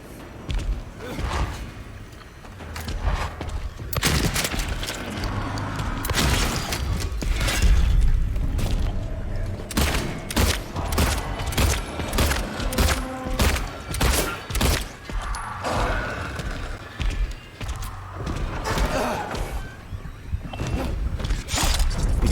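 Repeated gunshots from a handgun in the survival horror game Silent Hill 2, sharp bursts firing in irregular clusters over a dense, noisy game soundscape with thuds and mechanical clanks, loud and close throughout.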